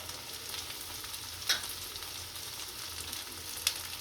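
Chopped capsicum, carrot and green peas sizzling and frying in a pan for a chilli cheese masala Maggi, a steady close hiss with a couple of brief stirring clicks.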